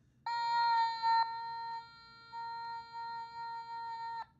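An Otamatone plays sustained electronic tones, its squeezable mouth opened and closed to reshape the timbre, giving a wah-like vocal quality. The notes hold steady with small bends, with a brief gap midway and a short accent near the end.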